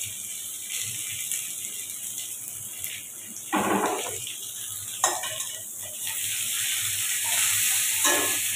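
Onions tossed into frying potatoes for a Kolkata-style spicy prawn masala curry, giving a steady hiss of sizzling oil with occasional utensil scrapes and stirring clinks, close up and without talk.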